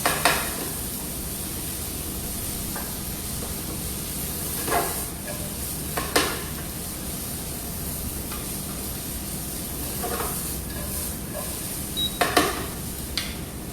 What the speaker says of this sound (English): So I'm just mashing the kidney beans along with the vegetables here.